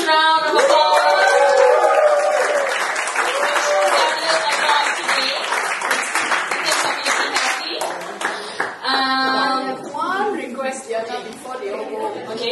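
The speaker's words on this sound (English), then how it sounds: "let's give Miss Indra a huge round of applause." An audience at a talk session gives a sustained round of clapping, loud and dense at first, then thinning out with some chatter and voices mixing in near the end.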